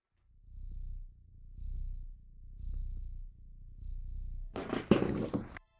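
Mishka the cat purring in soft rhythmic rumbles close by, several breaths in a row, ending in a brief burst of louder rustling noise.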